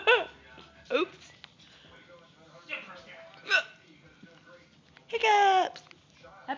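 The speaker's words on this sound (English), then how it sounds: "Hiccups." Repeated hiccups, several short sharp hiccup bursts spaced about a second apart at close range, with people talking between them.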